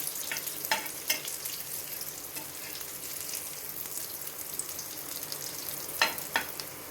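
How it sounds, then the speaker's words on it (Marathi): Colocasia (arbi) pieces fry crisp in a pan with a steady close sizzle throughout. A few scraping clatters stand out near the start and again toward the end as the pieces are turned, and there is no talk. "अरबी फ्राय असे आपल्याला खरपूस चांगलेसे फ्राय करून घेतलेले आहेत"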